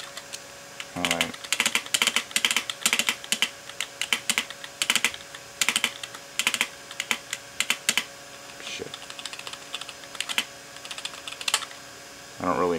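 Computer keyboard typing during a Windows 98 installation, bursts of quick close clicks and keystrokes in irregular runs with short pauses, fairly loud and clear with no speech over them.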